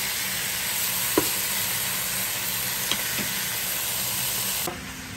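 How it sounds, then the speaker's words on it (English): Pork browning in a Power XL electric cooker, a steady loud sizzle with a few brief sharp scrapes of stirring, the sizzle easing slightly at the end. "Okay, I'm going to stir this up like this. You see it's getting nice, good, and brown."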